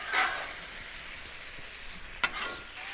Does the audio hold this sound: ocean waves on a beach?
no